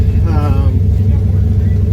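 A drag car's engine idles while warming up on a cool 50-degree day at a drag strip, a loud, steady low rumble with a brief rising harmonic whine, heard close and continuous.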